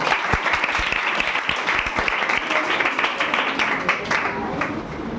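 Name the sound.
audience clapping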